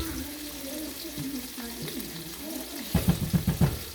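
Seafood risotto is stirred in a pan after salt and pepper go in, a soft wet sizzle and scraping churn that turns into a quick run of louder rhythmic spoon strokes at the end.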